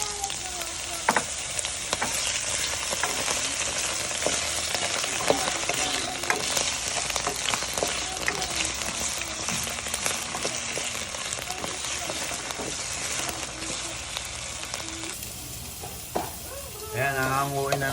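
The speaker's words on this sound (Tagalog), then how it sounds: "Tapos ipipirito ko na itong patatas." Potatoes fry in hot oil in a pan with a dense, steady sizzle and scattered crackles throughout, close and fairly loud, while faint voices come in near the end.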